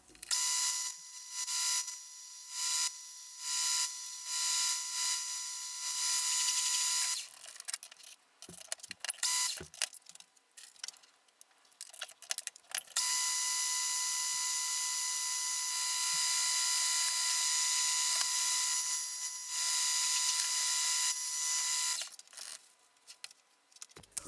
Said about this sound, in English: over at the lathe, I'll make the male pipe connector.